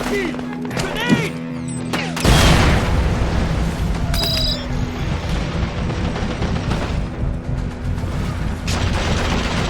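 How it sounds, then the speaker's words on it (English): A grenade explodes in Mercenaries 2: World in Flames with a sudden loud boom partway through, then a long rumbling roar of debris and battle noise. Gunfire and game effects sound around it, and a voice is heard before the blast. "Grenade!"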